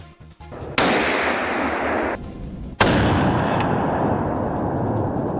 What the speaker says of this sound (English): a rapid burst of gunfire rang out